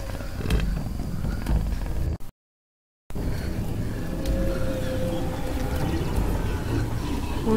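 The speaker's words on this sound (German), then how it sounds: "Oh, Jaguar." In the jungle of Shadow of the Tomb Raider, a jaguar growls low and rumbling amid ambient forest noise, broken by a brief dead-silent gap before the deep growling resumes.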